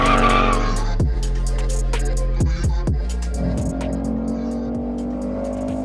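Ford Mustang GT V8 sliding sideways, with a loud engine roar broken by several sharp gear changes and rev drops, tires squealing and skidding close by.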